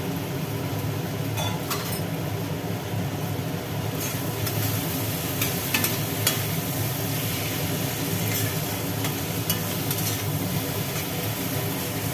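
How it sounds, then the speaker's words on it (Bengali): Fried potatoes are stirred into a frying masala in a pan, a steady close sizzle with intermittent scraping and knocking of the spatula over a low background rumble. "ভেজে রাখা আলুগুলো মশলার মধ্যে কষানো মশলার মধ্যে দিয়ে একটু নাড়াচাড়া করা হচ্ছে"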